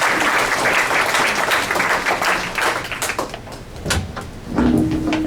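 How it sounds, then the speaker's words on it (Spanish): Applause from a conference audience on psychological evidence in oral trials, a full, continuous round of clapping that stays loud and even throughout, with a brief faint voice near the end. "vamos a darle un fuerte aplauso"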